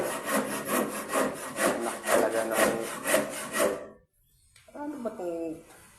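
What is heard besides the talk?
hand saw cutting wood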